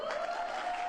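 An audience applauding, a short wash of steady, dense clapping at moderate volume, with a faint sustained tone running underneath.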